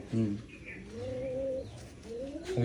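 Pigeons coo on a rainy day, a few low, throaty rolling calls close by, with a soft background hum and other faint bird chirps.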